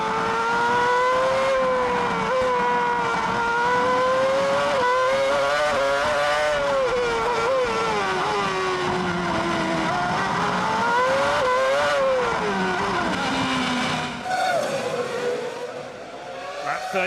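2006 Formula 1 cars racing at the Monaco Grand Prix, loud high-pitched engines whining and shifting as they climb and fall in pitch, continuous and close, with the roar fading slightly near the end.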